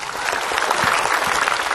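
A burst of audience applause, many hands clapping steadily at close range for a couple of seconds.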